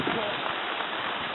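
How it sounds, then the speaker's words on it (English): Steady rain falls during Hurricane Florence as a constant, fairly loud hiss with no speech. "So it's been raining a lot."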